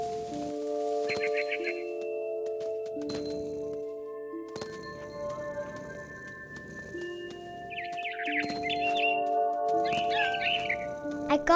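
Bird chirps in the video game What Remains of Edith Finch, several short bursts of high twittering over sustained tonal music and glassy clinks, moderately loud.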